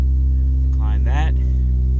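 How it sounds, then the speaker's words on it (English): A car engine idles just after starting, following an E85 gauge install, a loud, steady low hum with a constant drone throughout, while someone speaks briefly over it. "So I'm gonna let the car run."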